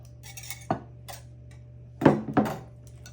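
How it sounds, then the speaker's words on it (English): Metal tongs clink against a pan while separating shredded turkey, a few scattered sharp scrapes and clacks with a cluster of louder hits near the end, close and without talk. "I got some tongs here to shred that up"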